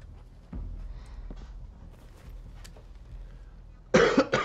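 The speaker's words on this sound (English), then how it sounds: "if I keep coughing every now and then" One loud, sharp cough bursts out close to the microphone near the end, after a stretch of quiet background sound from The Walking Dead Michonne gameplay.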